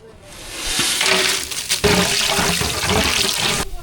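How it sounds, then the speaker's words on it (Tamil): Cinnamon and other whole spices fry in a hot pan for coconut-milk seeraga samba mutton biryani, giving a steady, close, fairly loud crackling sizzle that carries for nearly four seconds, with a few sharper pops midway. "பட்டை வகையெல்லாம் நல்லா பொரிஞ்சிருச்சு"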